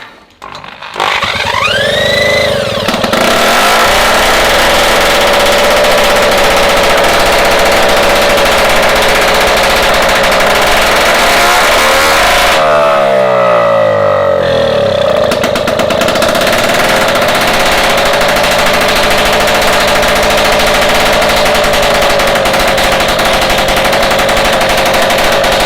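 Solex moped engine being started after a rebuild, rattling into life and then running loud and close in a continuous buzzing, revving drone that varies in pitch before settling to a steady idle.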